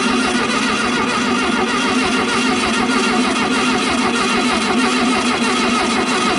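A 1970 Volkswagen Fusca with a variable venturi carburetor that is failing to start, its engine cranking as a steady, dense mechanical churning that stays loud and even throughout.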